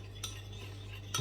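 Teriyaki sauce of soy sauce being stirred for salmon, with two brief clinks of a utensil against a dish over a steady low hum.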